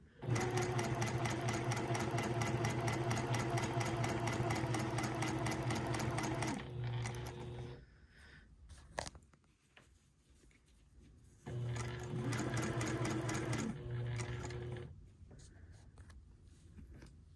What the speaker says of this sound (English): I want you to go ahead and stitch 1 centimeter, or 3/8 inch away. And so I am stitching my facing.